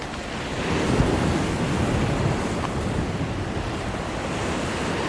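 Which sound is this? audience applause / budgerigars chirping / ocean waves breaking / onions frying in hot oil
ocean waves breaking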